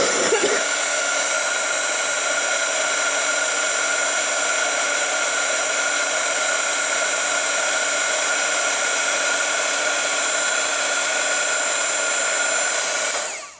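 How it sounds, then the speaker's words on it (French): A hot air heat gun blows steadily while melting embossing powder on a wedding card; a continuous whining rush of air, loud and close, holds unbroken for about thirteen seconds before cutting off. "Et maintenant je chauffe avec le pistolet à air chaud."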